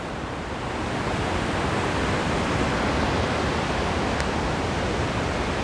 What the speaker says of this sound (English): We have reached Attukad waterfall.